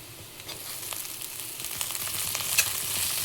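Broccoli going into a pan of frying onions gives a steady, faint sizzle with light scattered crackles and a brief clink near the end, no voices.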